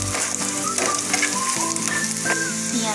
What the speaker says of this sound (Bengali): দেখো পেঁয়াজটা আধা ভাজা হয়ে গিয়েছে, আমার ভাজা হবে।